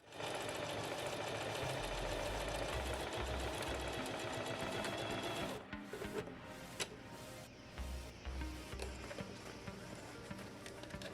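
A sewing machine stitches fabric for a camera-light diffuser, running in a steady fast rattle for about five seconds, then stopping and starting in shorter, quieter bursts with brief pauses.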